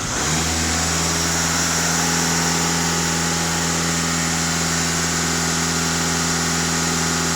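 A Volkswagen Touran TDI diesel engine runs at raised revs, a loud, steady, close drone with a strong low hum that stays constant throughout.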